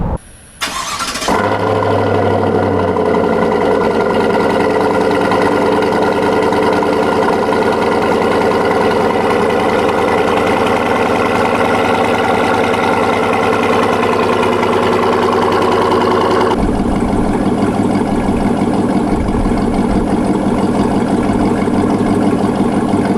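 A Chevrolet Silverado truck fitted with a Corsa Sport exhaust cranks over, fires up, settles into a steady, throaty idle and then shifts to a deeper rumble partway through, close and loud with no talking.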